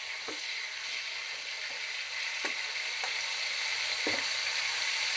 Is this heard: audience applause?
no